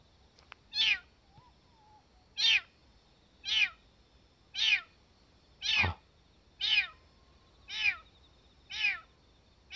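A cat meows over and over at a steady pace, about nine plaintive cries, fairly close and clear against a quiet background.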